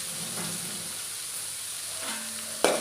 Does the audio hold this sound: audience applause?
no